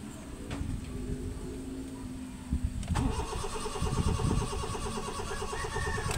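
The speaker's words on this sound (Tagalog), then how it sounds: "Mahirap paandarin o hirap mag-start ang makina." A car engine with a failing crankshaft position sensor cranks hard before starting: a rough, struggling crank rises into a loud, steady running engine at close range, with no speech.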